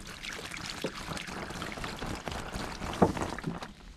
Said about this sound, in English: I'm going to pour a little bit on at the top.